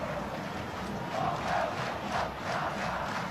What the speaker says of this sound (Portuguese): A torcida acorda e tenta empolgar o time